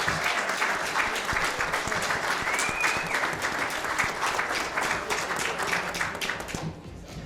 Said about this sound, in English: How about a round of applause for her as well?